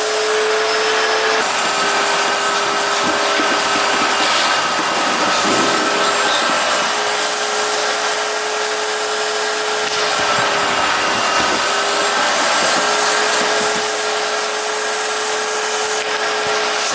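Loud, continuous whining roar of a vacuum cleaner sucking stashed nuts out of a dirt bike air box, with rattling clatter and brief dips as debris is pulled through the hose up close.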